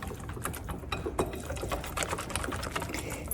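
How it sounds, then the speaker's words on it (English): Pumpkin pecan pie filling whisked by hand in a bowl, a fast, continuous wet scraping and rattling rhythm that stays close and fairly even throughout. "And really whisk it nicely"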